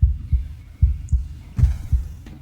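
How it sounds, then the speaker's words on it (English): A steady, deep heartbeat from the video game Slay the Princess, a rhythmic lub-dub pulsing several times, loud and close with no talking. "Listen to the heartbeat, too."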